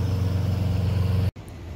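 Steady, loud car engine drone with a low rumble on Highway 12 toward Wisconsin Dells, where sports cars are driving; it cuts out abruptly near the end, then quieter road noise returns.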